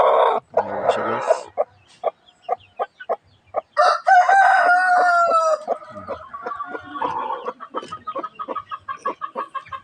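A hen clucks in quick, sharp bursts close by after laying an egg at another house, then a drawn-out crow rises and falls before the rapid clucking resumes, loud and alone.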